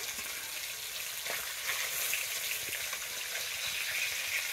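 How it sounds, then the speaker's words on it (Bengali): Fish fry in hot oil in a home kitchen, a steady, fairly quiet sizzle and crackle that continues evenly throughout with no voices. "ভালো করে ভেজে নেব মাছগুলো"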